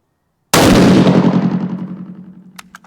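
A rifle with a new Outlier barrel fires one Hornady Black 140 grain factory round, a single very loud, sharp report that breaks out of silence and rolls off in a long decaying echo.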